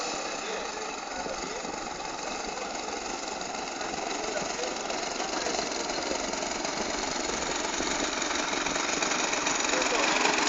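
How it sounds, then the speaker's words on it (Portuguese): A model airplane engine on a Yak scale model screams at high revs, a steady, loud, raspy buzz that grows slightly louder toward the end. "Cara, o motor tá muito forte, Magrão."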